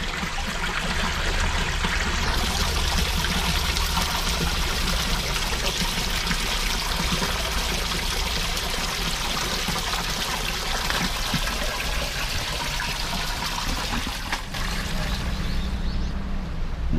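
Spring water trickles in a park in Okinawa, a continuous close, splashy flow of running water heard steadily for the whole stretch with no voices.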